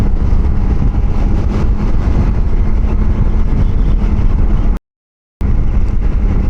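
A Kawasaki Versys X 300 motorcycle riding near Fort Collins gives a loud, steady engine drone mixed with heavy wind rush, broken by one brief dropout of silence.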